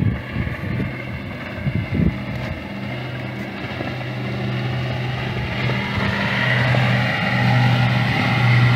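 A boat passes near a breakwater lighthouse, its engine a low droning hum that slowly grows louder under strong gusts of wind buffeting the microphone.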